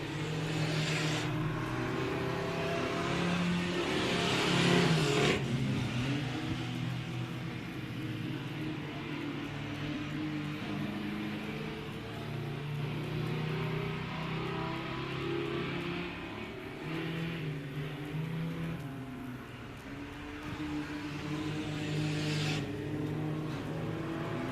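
Race cars circle an oval at Big O Speedway on opening weekend, engines droning steadily at a distance with a swelling pass near the middle, under a faint commentary voice.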